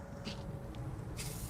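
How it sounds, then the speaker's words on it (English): Two short hissing bursts of cooking spray, one early and one near the end, over a low steady background hum. "I'm going to use a little cooking spray to just coat these a little bit."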